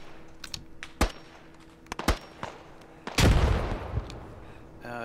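Gunfire in the infantry shooter Squad: a few separate sharp shots and one heavier, longer burst, heard alongside keyboard clicks and faint background noise.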